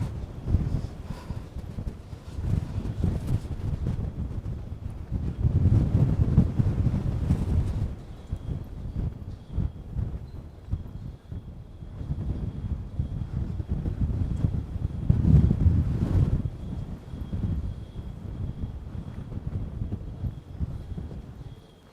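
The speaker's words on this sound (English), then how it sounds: "Now here it's windy, yeah." Gusty wind buffets the microphone with low rumbling surges that rise and fall, with faint background activity underneath, on a rainy street walk in Ponta Delgada, Azores.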